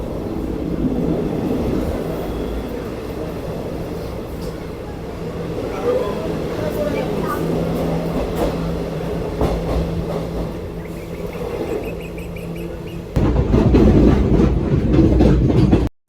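Howrah-Balurghat Express rumbling into Bandel junction: a steady, loud rolling drone with rhythmic wheel clatter that keeps going throughout, then grows suddenly harsher and louder near the end.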